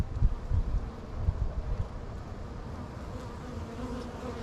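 Honey bees buzz during a hive inspection in a close, continuous drone, with some breathy mic rumble at the start before the hum settles.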